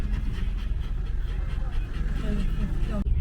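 Kathmandu road traffic jam at Thapathali, a constant heavy low rumble of idling and creeping vehicles close by, with a dog panting and brief voices over it.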